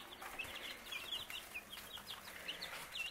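Baby chicks in a brooder peep continuously with high, rapid chirps, several birds overlapping at close range, fairly quiet overall with no voices.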